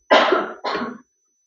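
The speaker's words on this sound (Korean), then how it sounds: "요즘에 아주 그냥 기침하시는 분들이 많습니다." Two harsh coughs from one person, close and loud, the second shorter, followed by silence.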